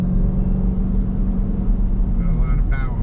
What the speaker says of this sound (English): I do really love the whine of the supercharger